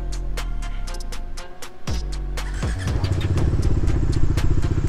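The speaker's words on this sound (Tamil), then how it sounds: "ஸோ இந்த வண்டியோட இப்போ எக்ஸாஸ்ட் நோட் பார்த்துலாங்க" A 2020 BS6 Bajaj Dominar 250 motorcycle with a double-barrel exhaust idles close by, a steady deep bassy thrum punctuated by sharp clicks and small throttle blips that swell slightly louder toward the end.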